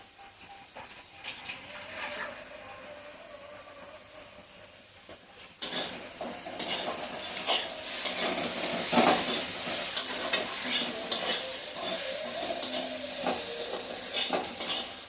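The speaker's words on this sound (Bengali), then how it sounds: "মশলাটার সাথে ডিম পেঁয়াজটা ভালোভাবে নেড়ে চেড়ে" Egg, onion and spices are stirred and fried together in a pan, with a faint sizzle that jumps to loud, busy frying and spatula scraping partway through.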